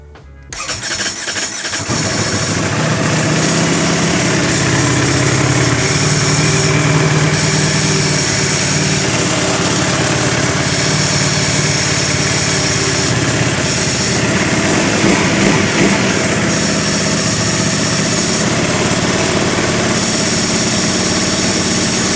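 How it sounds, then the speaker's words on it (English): A 2023 Ducati Panigale V4 SP2 with its dry clutch cover removed cranks and fires, then settles into a loud, steady idle with the open dry clutch rattling, running continuously with no talk. "Yep, it does sound like a dry clutch now."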